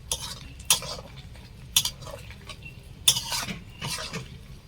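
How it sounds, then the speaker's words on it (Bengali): Onions stirred in a pan for chili chicken, a metal utensil scraping and clinking against the pan in a few distinct strokes over a low, steady background hiss. "এরপরে দেবো পেঁয়াজ পেঁয়াজ ভাজতে ভাজতে পেঁয়াজের পাপড়িগুলো খুলে যাবে"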